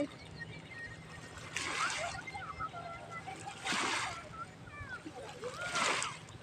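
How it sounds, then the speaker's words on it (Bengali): Flowing water with three distinct bursts of splashing, moderately close but soft, with quiet murmuring between them and people talking nearby. "জলটা দেখো কেমন হচ্ছে"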